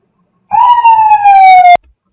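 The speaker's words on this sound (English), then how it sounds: "That's why you're hearing the siren stop just outside of my house." Street siren from first responder vehicles, one loud sustained wail that slowly falls in pitch and cuts off abruptly, close by with no talk over it.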